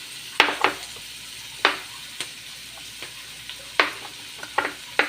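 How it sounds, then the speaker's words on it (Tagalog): Garlic and onion sautéing in butter in a pan, a low steady sizzle punctuated by sharp scraping stirs and spatula knocks at irregular intervals, close up with no voices. "Saute na po natin yung ating garlic onion."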